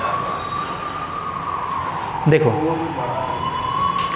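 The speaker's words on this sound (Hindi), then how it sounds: "एम्बुलेंस आवाज़ है।" An ambulance siren wails outside in a steady tone, with a brief louder passing swell midway, heard under a single spoken word nearby.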